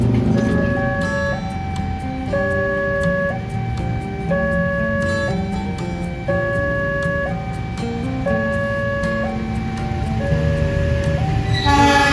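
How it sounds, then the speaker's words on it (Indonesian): A passenger train, the Progo, passes a station with a rumbling, clattering roar while a melodic chime or horn-like tones sound repeatedly in stepped patterns over it; no talking. "Sekitar 9 menit dari kereta api Progo lewat"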